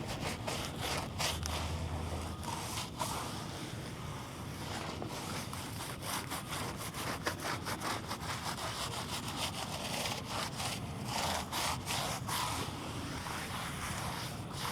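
Stiff brush scrubbing hard along the grooves of a scratched Jeep Rubicon off-roader's exterior during a wash, a steady broadband rasping that continues for the whole stretch with repeated strokes and faint wind noise, no talking.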